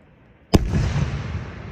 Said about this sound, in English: Best fireworks show I've seen all year.